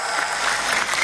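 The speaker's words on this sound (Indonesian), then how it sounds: "Tepuk tangan buat ning Lama'atul Sobah." Audience clapping at a night sholawat religious gathering, a brief burst of dense, steady applause filling the whole moment.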